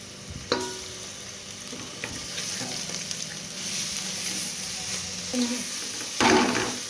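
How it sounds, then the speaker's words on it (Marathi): Ginger garlic paste hits browned onions in a pan for a spicy veg pulao, giving a loud close sizzle with spatula scrapes and clanks, a brief spoken word mixed in. "आता आपण अद्रक लसणाची पेस्ट टाकून घेऊ"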